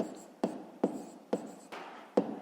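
Hand writing of a fifth-grade maths solution, five distinct sharp taps of pen or chalk on the writing surface, each followed by a short scratching stroke, close and quiet with no talk.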